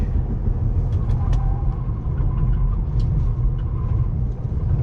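A Tesla Model 3 Performance drives hard on track in Track Mode with the traction control partly on: a steady, close, low cabin rumble of road and drive noise runs without a break for the whole stretch.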